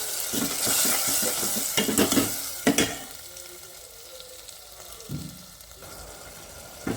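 A tomato and tamarind mixture with jaggery and garlic is poured into hot tempering for a drumstick-leaf bassaru, giving a loud hiss and sizzle with stirring and a few clinks of the pan, close and without talk.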